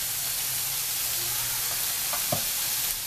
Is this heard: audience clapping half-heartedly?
no